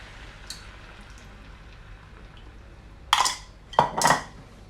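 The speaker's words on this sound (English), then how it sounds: "just give the sauce that we made earlier a bit of a stir, and then we're going to add that to the pan" Sauce stirred in a bowl and tipped into a pan of beef and broccoli stir-fry, a quiet background followed by a few sharp metallic clatters of utensils against cookware near the end.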